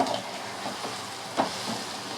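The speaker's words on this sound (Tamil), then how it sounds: "சேர்த்து நல்லா கிளறி விட்டுக்கலாம்" Masala being stirred into chicken gravy in a pan, with a soft continuous sizzle and a few faint scraping strokes of the spoon, quiet and close.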